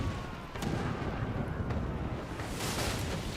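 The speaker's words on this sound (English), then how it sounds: "Fire my cannons." Ship cannons fire during naval combat in the video game Pillars of Eternity II, a dense, rumbling barrage of booms that blur into one continuous roar, loud throughout with no distinct pauses.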